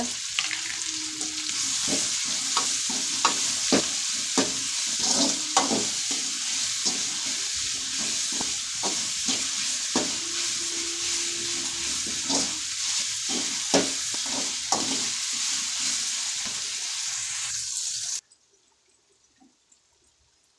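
Ingredients sauté in a pan for a fish curry with a continuous near sizzle and frequent sharp stirring clacks. After about eighteen seconds the sound cuts to near silence, and no voice is heard.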